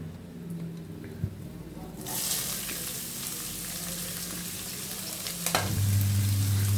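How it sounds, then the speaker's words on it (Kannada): Chopped onions dropped into hot oil for a cauliflower dry fry, bursting into a loud, steady sizzle partway through that continues with stirring and a clatter of the pan near the end. "ಈಗ ಆನಿಯನ್ ಹಾಕೋಣ ಫ್ರೈ ಮಾಡೋಕ್ಕೆ"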